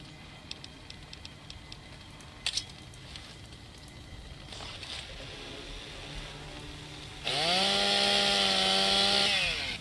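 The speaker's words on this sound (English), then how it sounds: "it's basically a handheld chainsaw" Ripper handheld chainsaw weapon in Fallout: New Vegas, a loud buzzing motor whine that revs up suddenly and holds steady to the end, preceded by quieter game sounds and scattered clicks.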